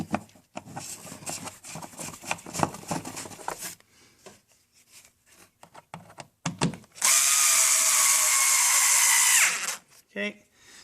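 Cordless power drill driving a screw into the air cleaner box of a Chevy Suburban, preceded by clicking and handling noises and a voice, then one loud steady whir of a few seconds that stops abruptly.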